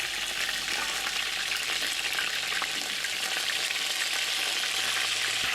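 Chicken pieces fry in a pot for a Réunion-style chicken carry, a dense, continuous close-up sizzle and crackle that holds steady throughout, with no voices.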